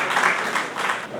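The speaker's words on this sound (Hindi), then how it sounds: "जोरदार ताली" An audience at an academic event on Chhattisgarhi language and journalism in Chhattisgarh gives hearty applause, a dense, even clatter of many hands clapping throughout a brief burst with no voices.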